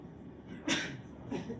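A short sharp sneeze bursts out once, fairly close, followed by a quieter exhale or sniff in an otherwise quiet room.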